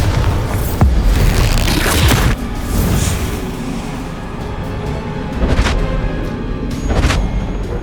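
A Bombarda blasting spell goes off in Hogwarts Legacy, a heavy booming explosion with a rumbling low-end tail, followed by further thuds and whooshing impacts of game combat.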